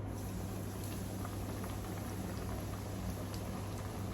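Large pieces of steak frying in a small amount of oil in a pan, a steady, even sizzle with a fine crackling texture that holds at moderate level throughout, without talk.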